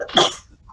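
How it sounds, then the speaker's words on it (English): A single short sneeze bursts out near the microphone in a podcast room, followed by quiet. "If it was a cough, I take it back. That was a sneeze."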